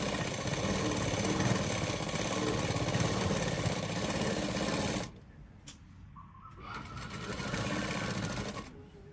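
A sewing machine runs steadily for about five seconds as it stitches a blouse sleeve, joining the lining and the fabric, then stops. Brief quiet handling noises and a short second burst of the motor follow.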